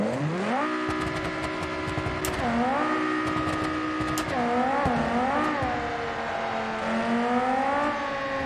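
Car engine in the Automation driving game, driving through a tunnel before a crash, revving and shifting with rising and falling tones, loud and steady, with a few sharp clicks and knocks near the end.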